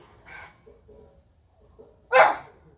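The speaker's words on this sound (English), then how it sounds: "What are you barking at?" A dog gives a couple of barks indoors, a soft one first and then a loud, sharp bark up close, with quiet gaps between them.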